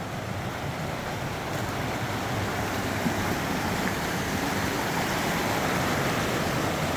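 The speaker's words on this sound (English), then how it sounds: "Small waterfall." A small waterfall in a creek in Cave Creek Canyon, Arizona, gives a steady, broad rushing roar of falling water, close and even throughout with no talk.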